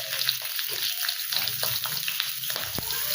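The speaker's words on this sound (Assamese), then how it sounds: "এতিয়া মই পটলখিনি ইয়াত দি দিছোঁ আৰু আলুখিনিও একেলগে দি দিম আৰু এইখিনি মই প্ৰথমতে ভাজি ল'ম" Whole pointed gourd and potatoes fry in hot oil in a pan, a steady close sizzle with occasional light stirring scrapes and clinks, no talking.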